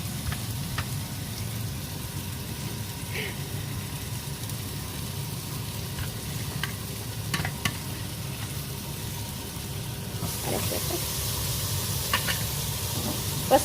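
Hamburger patties grilling in oil in a pan, a steady low sizzle and hiss running throughout with occasional faint clicks and taps, no one speaking.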